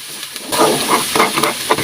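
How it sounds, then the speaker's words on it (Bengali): Ginger and garlic paste sizzles steadily in a hot pan, starting after a short quiet moment, with a continuous frying hiss and occasional stirring scrapes close by. "আমি আদা রসুনটা ভালো করে ভেজে নিলাম, যাতে কাঁচা গন্ধ না থাকে"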